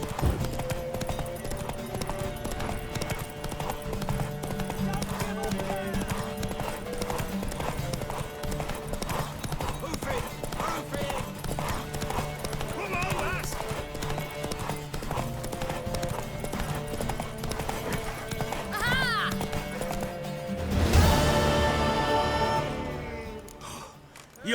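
Horse hooves clip-clopping in The Witcher 3, a steady rhythmic trot running throughout, joined by a brief whinny near the end, with music and occasional voices underneath.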